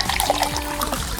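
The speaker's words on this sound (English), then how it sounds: "First, we need to pour it out." Cola glugging and trickling out of an upturned plastic bottle in a steady, close pour with small gurgles, no talking.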